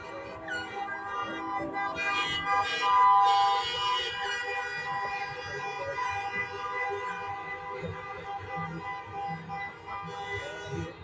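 An emergency vehicle siren wails steadily among layered tonal traffic sounds, fairly loud and continuous, swelling briefly partway through.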